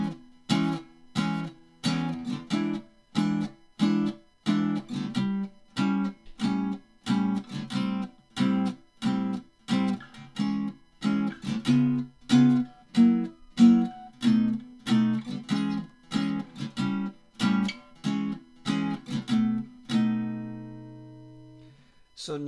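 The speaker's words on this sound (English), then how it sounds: "Now if I play this as a sock rhythm" A guitar plays a steady, evenly spaced sock-rhythm chord pattern over an 8-bar form, short muted chops repeating in a relaxed groove, ending on a sustained chord.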